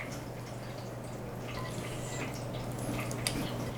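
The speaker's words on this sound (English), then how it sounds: "I'm going to pour my sauce," Thick cheese sauce poured into a keto green bean casserole gives faint, soft drips and wet plops against a low, steady kitchen hum.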